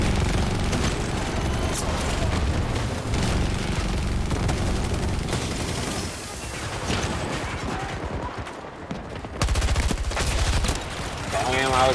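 Video game gunfire rattles in dense, continuous bursts and volleys, loud and layered with explosions and game sound effects, while a player talks over it.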